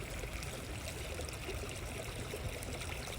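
Water flows in a steady trickling stream, a continuous soft babbling and dribbling heard quietly throughout with no voices.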